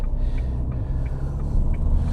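A Dacia Duster rolls over a rough, bumpy Hungarian road, a steady low tyre and engine rumble from inside the cabin with faint knocks from the soft suspension, no talking.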